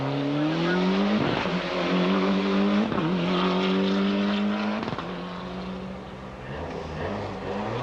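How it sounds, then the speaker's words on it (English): Ford Escort Cosworth rally car on the 1995 Burmah Rally tarmac stage, engine misfiring badly, its rough revving note rising and dropping through gear changes as it passes close and loud, without talk. "Misfiring very badly, as we can hear it heading towards the Golf Club area. Escort Cosworth."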